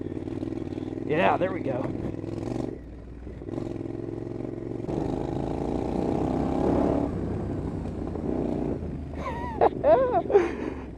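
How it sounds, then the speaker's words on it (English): A big motorcycle rumbles along a road with a steady low engine drone and some clatter, while a rider briefly speaks over it. "Just trying to keep up with the road on this big ass bike."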